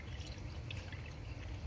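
Coolant pours into the radiator of a second-generation Dodge Ram, 1994–2002: a steady, faint liquid trickle and gurgle lasting throughout, with no talk.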